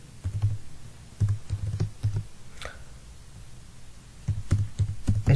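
Fingers tap out code on a computer keyboard in short, close bursts of crisp clicking keystrokes separated by brief pauses.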